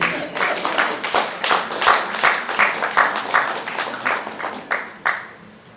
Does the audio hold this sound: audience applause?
yes